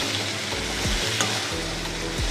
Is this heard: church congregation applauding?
no